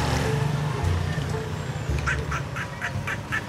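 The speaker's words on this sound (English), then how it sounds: "What kind of bird is that?" A forest bird calls from nearby trees along a roadside in Pakistan, with a series of about six short, rhythmic squawking notes over a loud background of traffic and crowd noise and some voices.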